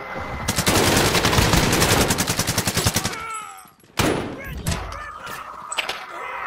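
Rapid automatic gunfire in the video game Warzone, a loud sustained burst of closely spaced shots followed by a brief pause and then scattered single shots and impacts, with a player's voice talking over the action.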